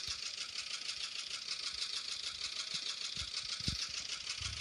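A tractor engine in the zombie survival game Experiment Z runs with a steady, buzzing drone at moderate level, a constant mechanical hum throughout with a few faint low thumps underneath.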